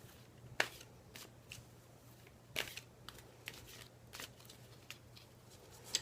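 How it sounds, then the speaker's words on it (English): Tarot cards are shuffled by hand close up, a series of soft, quick riffling and slapping bursts spaced irregularly over quiet room tone. "shuffling has been very rough tonight"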